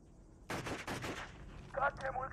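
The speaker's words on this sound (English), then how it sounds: "Repeat, shots fired." Rapid bursts of machine gun fire in a sci-fi action scene at an alien outpost, loud and close, with a burst of gunfire followed by a short pause and more shots, mixed with a voice on a radio.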